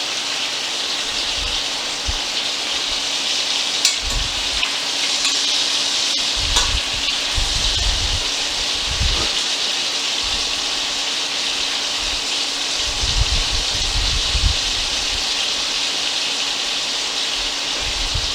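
Hawaiian short ribs browning in a hot pan give a steady, bright sizzle that runs throughout, with occasional low bumps and scrapes as the meat is nudged to unstick it.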